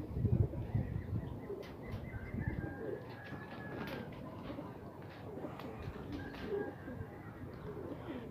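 Pigeons cooing in repeated soft, low calls close by, with other bird chirps and a faint voice in the background.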